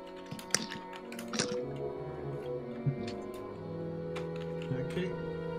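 Irregular bursts of typing on a computer keyboard, with sharp close clicks and a few louder taps over a steady low hum, during an online voice-chat tabletop game session.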